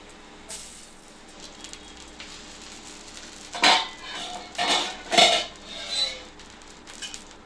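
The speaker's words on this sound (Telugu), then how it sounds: "ఇప్పుడు దీని మీద మూత పెట్టుకుందాం" A lid goes onto a pan of poha dosa cooking in oil, several metallic clanks and rattles in quick succession over a faint background sizzle, with no voice.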